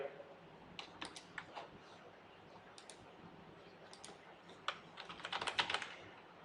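Fingers type on a computer keyboard in soft, uneven clicks that build to a quick flurry near the end, faint and close, with no one speaking.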